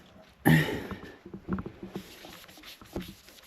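A cloth rubs in circular and back-and-forth strokes across a wooden surface to lift pen ink stains, giving soft, close scuffing sounds that come in short bursts.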